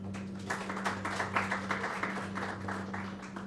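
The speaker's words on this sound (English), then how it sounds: "Huge round of applause." An audience applauds at the launch of Asianet News Marathi, a steady, fairly quiet burst of many clapping hands over a constant low electrical hum.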